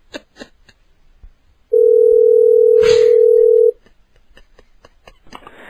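A telephone dial tone sounds after a call is hung up, one loud, steady, unbroken hum lasting about two seconds, close and alone, with faint clicks and brief voice fragments around it.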